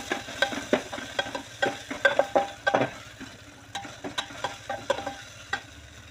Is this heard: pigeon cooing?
no